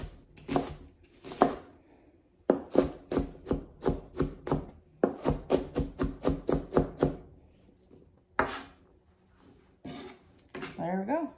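A kitchen knife chops an onion on a cutting board in quick, sharp, close strikes, steady runs of rhythmic cuts with short pauses between, ending in a brief scraping sound.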